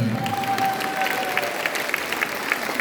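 A church congregation at a seminar applauds and cheers, a steady wash of clapping from a crowd indoors with a few raised voices and a sustained tone in the background.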